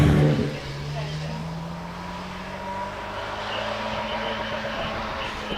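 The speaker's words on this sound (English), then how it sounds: "And the E-Type then coming up towards the S's." A Jaguar E-Type climbs the Prescott hillclimb, its engine note steady and rising at mid distance as it heads up the course, with a commentator's voice over it.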